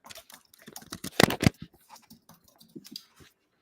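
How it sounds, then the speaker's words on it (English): Rapid clicking of keys on a computer keyboard, an irregular burst of taps with a couple of louder strokes in the middle, fairly close and heard alone. "I think that's not my keyboard. What are you typing on?"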